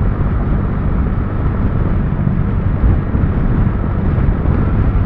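Strong wind roars across the microphone while riding a motorcycle on an open road, a loud, constant low buffeting rush that fills the whole stretch without any talking.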